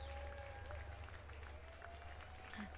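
Faint, steady applause from a crowd in the video game Snoot Game, a soft continuous patter of clapping under low background tones.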